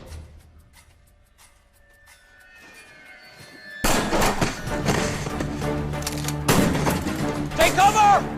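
Gunfire in a TV drama battle scene: after a quiet stretch, dense loud shots and bursts break out, mixed with shouting voices and dramatic music.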